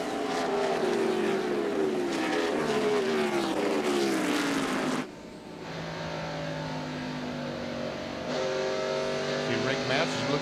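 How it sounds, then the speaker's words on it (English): A NASCAR stock car at Darlington Raceway during the 1998 Southern 500 drops in pitch as it eases off the throttle into a corner, then roars back under hard acceleration, with race commentary talking over it. "We're getting back off the throttle, coast to the corner, now back hard on the throttle."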